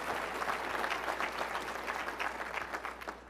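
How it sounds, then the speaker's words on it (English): An audience at a leadership talk applauds steadily, a soft, even wash of many hands clapping at some distance for a few seconds, with no voices over it. "Yeah, you can applaud for that"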